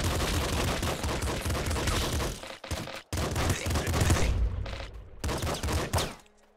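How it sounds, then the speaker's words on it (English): Rapid machine gun fire from a triple machine gun in the game Nuclear Throne rattles in dense, loud bursts, broken by brief gaps before resuming. "Triple machine gun this early is probably a good idea."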